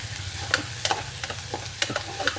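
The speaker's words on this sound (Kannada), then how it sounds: "ಎರಡು ಸಣ್ಣಗೆ ಹೆಚ್ಚಿರೋ ಈರುಳ್ಳಿ ಹೇಳಿದ್ನಲ್ಲ, ಅದನ್ನ ಹಾಕಾಯ್ತು. ಟಾಸ್ ಮಾಡೋಣ." Finely chopped onions tossed and fried in a pan for beetroot gravy, a continuous sizzle broken by several sharp clinks and scrapes of the spoon, close up with no talking.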